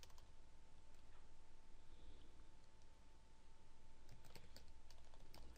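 Steady clicking of computer keyboard keys as a city name is typed into a website form, a continuous run of quick keystrokes over a low hum, with a slightly denser burst near the end.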